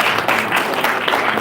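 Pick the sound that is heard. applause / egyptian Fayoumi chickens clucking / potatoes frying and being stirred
applause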